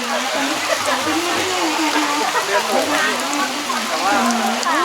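Rain falls steadily at an open-air plant market at Khao Chi On in Sattahip, a dense continuous patter with voices talking over it throughout.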